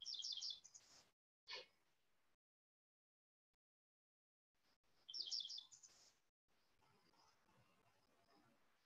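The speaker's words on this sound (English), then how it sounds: "So there's calls, and then there are bird songs" Bright, rapid bird song phrases ring out in two bursts separated by a quiet pause, with faint rustling and background hiss between them.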